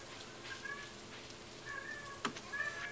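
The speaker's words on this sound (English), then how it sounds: "I can hear him meowing in the background." A cat meows quietly in the background of a Stardew Valley game session: several short, faint meows spread across a few seconds over low room noise.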